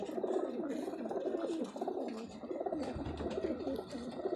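A pigeon from a fancier's loft coos in repeated rolling phrases, each throaty call rising and falling in a steady rhythm, close and clear for several seconds.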